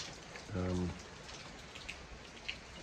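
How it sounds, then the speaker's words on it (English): Steady pouring rain during a big thunderstorm at a house under restoration in Italy, a constant hiss of rain on surfaces with a few louder drips, while someone briefly speaks early on. "It's pouring with rain."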